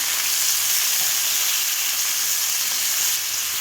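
Tomato pieces fry in a tablespoon of oil in a pan for a coriander tomato chutney, giving a loud, dense, continuous sizzle up close, with no voices.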